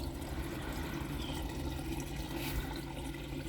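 Water flows steadily through a small pipe into the bottom of an aquaponics radial flow filter bucket, a constant rushing, splashing wash that stays even and close throughout.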